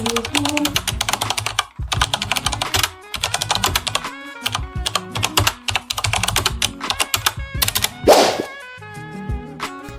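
Rapid, continuous typing on a Fantech Max Power MK853 mechanical gaming keyboard, loud and close, with brief pauses and a burst of faster clacking near the end.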